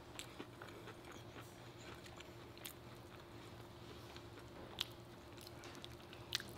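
Someone eats a homemade Popeyes copycat meal with gravy, with faint biting and chewing sounds over low background hum and a couple of brief sharp clicks.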